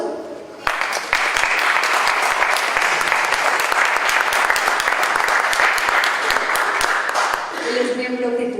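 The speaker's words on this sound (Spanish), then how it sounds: "para que les pido un aplauso" Audience applause at a lecture on Mexico City's urban structure, a dense, sustained wash of clapping from a seated crowd that swells in and holds for several seconds before fading as a voice begins near the end.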